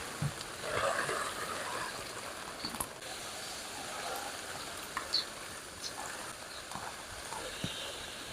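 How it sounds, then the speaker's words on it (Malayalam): Steady heavy rain falling outdoors near a fish trap during the monsoon season, a continuous broadband hiss with scattered louder drops throughout, no voices. "നല്ല മഴ."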